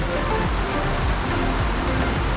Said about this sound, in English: And this is gonna be waterfalls number 3.